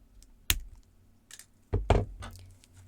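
Pliers trimming jewellery wire on a handmade wire-wrapped bead bracelet: a couple of sharp, close snips and small metallic clicks, isolated against a quiet background.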